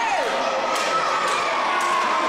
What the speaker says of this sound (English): The crowd here in Southampton do not like it